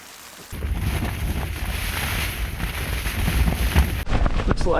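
Strong wind buffets a tent while camping in the remote Australian Alps, a steady loud roar with gusty rises and flapping, running continuously before a brief drop and abrupt resumption near the end.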